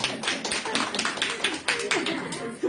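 A small group claps at a spiritual gathering, a run of quick, uneven handclaps close by, with a voice talking over them.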